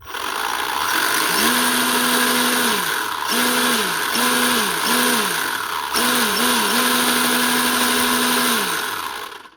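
Small motor of a 3D printed RC speed car revving in repeated bursts, a loud buzzing whine that climbs, holds and drops several times, close up with no talking.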